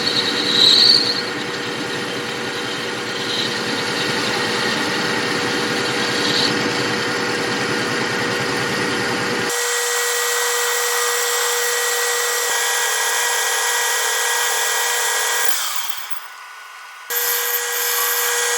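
A tool and cutter grinder runs in backwards rotation, giving a steady loud mechanical whine and hum close by. Partway through the low rumble drops away and a higher tone carries on, and there is a brief dip near the end.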